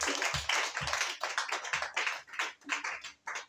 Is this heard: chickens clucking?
no